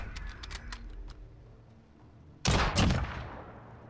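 Video game gunfire from Modern Warfare: scattered sharp shots in the first half, then a loud burst of rapid automatic fire that rings out and fades toward the end.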